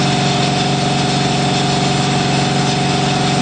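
Steady, loud hum of an air compressor running continuously in a sandblasting workshop, with an even tonal drone and no pauses.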